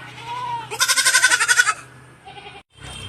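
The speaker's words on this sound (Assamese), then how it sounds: "ছাগলীবোৰ" Goats bleat in a loud, close, wavering cry lasting most of a second, followed by a softer, shorter call, with quiet rural background around them.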